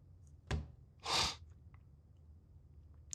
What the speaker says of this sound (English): I'm sneezing right now